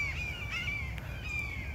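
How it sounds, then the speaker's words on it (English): Several harsh hawk calls ring out overhead over a low rumbling background, a few cries overlapping in quick succession. "there's like three hawks flying overhead and making all kinds of noise"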